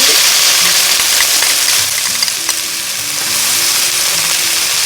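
Bean sprouts with tofu, garlic and oyster sauce stir-frying in a pan, a loud continuous close sizzle with faint stirring scrapes beneath it.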